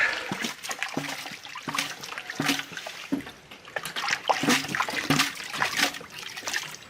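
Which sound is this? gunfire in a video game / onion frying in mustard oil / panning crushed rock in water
panning crushed rock in water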